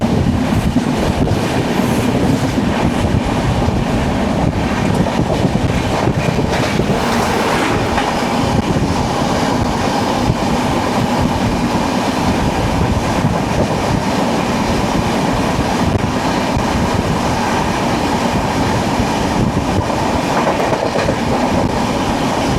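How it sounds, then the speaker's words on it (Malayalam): The Sabari Express rolls past on the rails with a loud, steady rumble and rhythmic clickety-clack of wagon wheels, close and continuous throughout, with no voices. "ശബരി എക്സ്പ്രസ് വരുന്നുണ്ട്."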